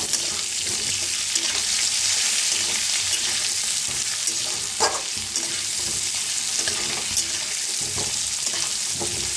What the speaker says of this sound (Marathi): आता भाजून घेऊया।